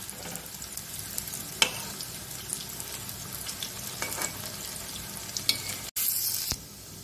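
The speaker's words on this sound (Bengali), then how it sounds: "এক পিঠ আমার একটু ভাজা হয়েছে, ও পিঠ করে আমি উল্টে নিলাম।" Banana flower fritters fry in a pan with a continuous close sizzle, broken by occasional spatula taps and a louder hiss near the end as a fritter is turned.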